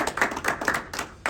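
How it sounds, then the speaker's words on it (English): Clapping from an audience welcoming a guest speaker, a short burst of a few hands giving irregular, sharp claps close by, thinning out in under two seconds. "Let's give him a round of applause."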